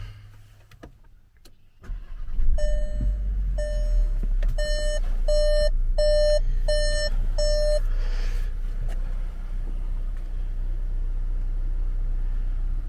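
A 2022 Volkswagen Taos engine cranks and catches, then settles into a low, steady idle while a run of about seven clear dashboard chimes rings out in an even rhythm before stopping.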